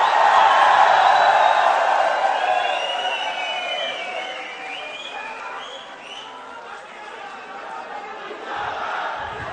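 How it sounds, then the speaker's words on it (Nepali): A large crowd at a political party launch rally roars and cheers, with whistles and shouts rising loudly at first, dipping slightly and then swelling again in a sustained wash of voices. "राष्ट्रिय स्वतन्त्र पार्टीलाई जोरदार तालीले स्वागत गरिदिनु होला"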